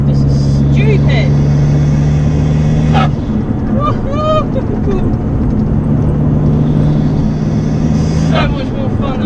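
Modified Abarth car with 200 bhp, engine roaring loudly and steadily as it accelerates, heard from inside with a brief lull mid-way; people talk and exclaim excitedly over the engine.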